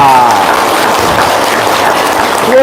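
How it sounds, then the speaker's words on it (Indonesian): An audience claps together at a mosque fundraising gathering, a short burst of dense, loud applause that holds steady for a couple of seconds, close and filling the room. "Tepuk tangan dulu dong."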